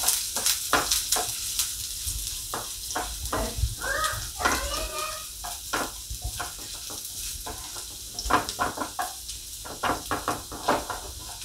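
Grated ginger stirred and frying in a pan for veg momo filling, a steady sizzle with repeated scraping stir strokes throughout, close and fairly loud, with no voice.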